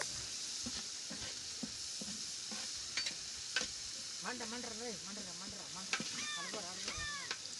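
Spice paste for a wood-fired goat curry frying in a large pot, a soft steady sizzle with intermittent scraping stirs, while faint honking birds call in the background.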